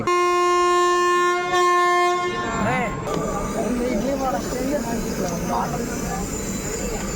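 The Pinakini Express sounds its horn loudly for a couple of seconds while departing Bapatla station, then the rumble and clatter of the moving train continues steadily under voices.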